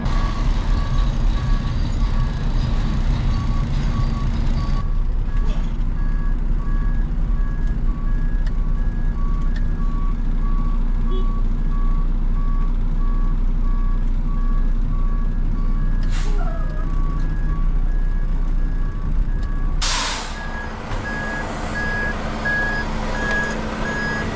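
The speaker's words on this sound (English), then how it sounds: "I'll move my truck right here." Reversing beeps repeat steadily over the low rumble of a truck engine at a work site beside a loader, the truck running close by throughout with a brief burst of louder noise near the end.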